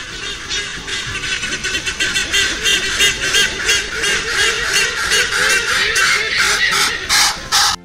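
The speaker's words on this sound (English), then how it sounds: "Hornbill" Hornbill calls ring out as loud, repeated honking notes that pulse steadily for several seconds, dense and close, with no talk over them.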